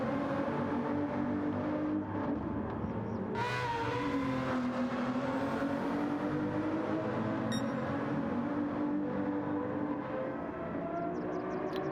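Ferrari race car engine in Gran Turismo 7 during an endurance championship race, a loud sustained engine note rising and falling with shifting pitch, one abrupt surge partway through as it accelerates, racing on without talk.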